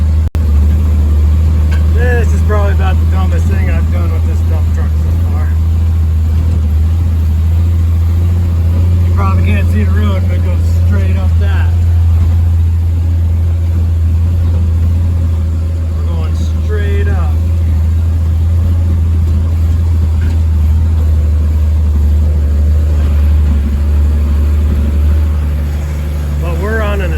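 A 1948 Chevy dump truck climbing a steep off-road single-track trail, its engine holding a loud, steady low drone throughout while someone talks over it.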